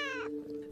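A single short kitten meow, a rising then falling cry that fades quickly, used as a sound effect in a children's story about kittens running loose in a house, heard alone and fairly faint.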